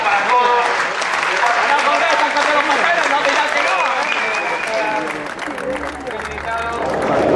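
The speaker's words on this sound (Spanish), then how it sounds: "Un aplauso para todos." Crowd applause closing an outdoor historical reenactment in Coruña, steady and loud clapping mixed with babble of voices throughout, with a faint low hum near the end.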